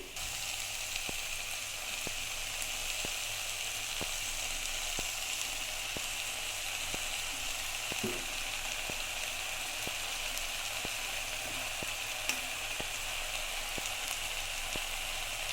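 Fish roe sizzling in a pan of hot oil for a home-cooked kochur loti dish, a steady low frying hiss with a few faint pops.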